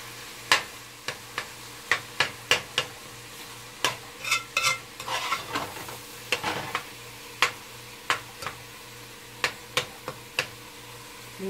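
Khoya being mixed into grated carrot halwa in a pan, heard as a series of sharp, separate spatula taps and scrapes at a loose irregular rhythm, with a brief busier stretch of scraping in the middle and no speech.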